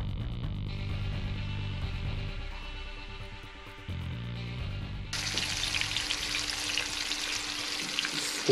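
Flounder sizzling as it fries in a pan, a steady hiss that swells into a louder, brighter crackle partway through, close up with no talking.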